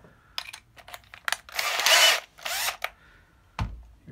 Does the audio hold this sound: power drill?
yes